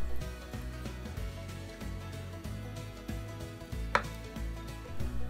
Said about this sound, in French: on pose donc notre shiitake sur la tranche et on retire le pied.